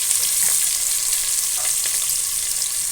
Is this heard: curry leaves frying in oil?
yes